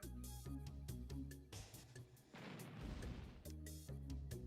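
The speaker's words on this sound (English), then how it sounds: "Let's go big chunky pixel explosions." Chunky pixel-style explosions in Command & Conquer Remastered, a rapid run of punchy booms and pops with a longer crashing blast midway, faint and mixed with game sounds.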